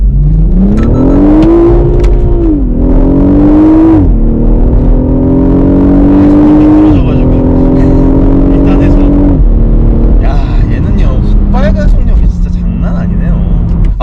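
A BMW 840i coupe engine revs up hard through several rising pulls, each climbing in pitch and dropping briefly at gear changes, loud and close.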